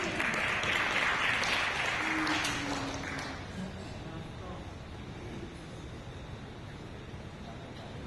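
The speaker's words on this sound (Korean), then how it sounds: "네, 박수." Audience clapping at a Seogwipo keynote lecture, a dense burst of applause in the hall that swells for about three seconds and then fades out, leaving room tone.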